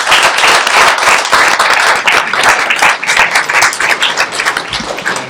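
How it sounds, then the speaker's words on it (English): A school board meeting audience gives a loud, dense round of applause honoring a fine arts director, steady continuous clapping from many hands filling the room. "we just want to give him a round of applause for that"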